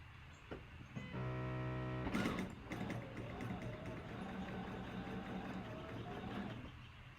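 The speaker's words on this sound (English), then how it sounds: "I'm going to follow this line and sew in" A sewing machine stitches a quilt block in a short, steady mechanical run of about a second. It is followed by quieter handling and rustling, all faint.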